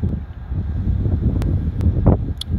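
Strong gusty wind outdoors buffets the microphone with a continuous low rumble, broken by a few faint ticks.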